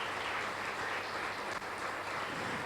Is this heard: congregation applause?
yes